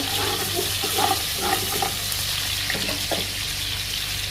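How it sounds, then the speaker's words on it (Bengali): Chopped onions fry in oil in a kadai, giving a steady, close sizzling hiss with a few soft stirring scrapes. No one speaks. "দেখেন আমি কড়াইতে তেল দিয়ে দিলাম, এখানে কুচানো কয়েকটা পেঁয়াজ দিয়ে দিলাম, এটা নেড়ে নেব।"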